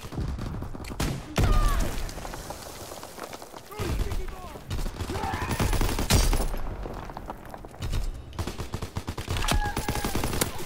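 Rapid bursts of gunfire in the online shooter game Call of Duty: WWII, with clustered automatic shots and cracks repeating through the clip under bits of voice chatter.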